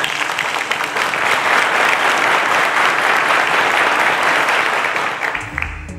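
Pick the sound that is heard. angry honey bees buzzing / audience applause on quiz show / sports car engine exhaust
audience applause on quiz show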